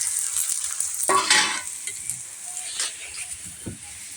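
Aloo tikki fry in shallow oil over high heat with a close, crackling sizzle that swells early and then settles. Faint voices sound in the background.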